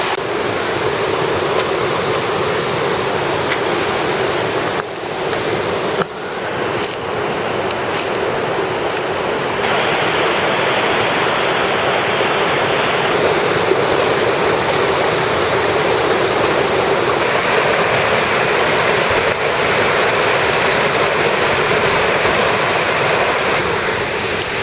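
Waterfall in a tropical forest in the Los Tuxtlas region of Veracruz, Mexico, a loud, steady, close roar of falling water with a few faint knocks, no voices.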